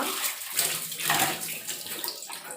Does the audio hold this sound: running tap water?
yes